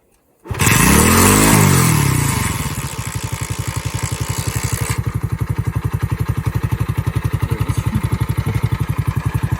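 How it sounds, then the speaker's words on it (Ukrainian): A Spark SP110C-2C motorcycle engine starts with a loud revving surge, then settles into a steady, rhythmic idle at about 1,500 rpm that continues close by. "як для мотоцикла, не самий шумний. В нього холостий ход півтори тисячі"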